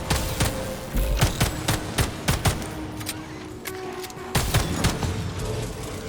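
Pistol shots fired at robots in the video game Atomic Heart, a string of sharp, loud, separate cracks at an uneven pace with a short lull in the middle, over low mechanical background noise.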